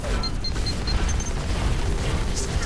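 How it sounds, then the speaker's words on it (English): Mech gunfire and heavy booming impacts in the game Hawken, a dense, loud barrage of blasts and rumbling hits with small beeping tones over the top, and no pause between them. "Stop shooting at me."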